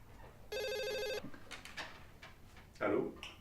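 A telephone rings once as a call is placed, a loud electronic trill lasting about half a second, followed by soft handling noises and a faint voice.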